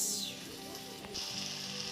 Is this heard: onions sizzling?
yes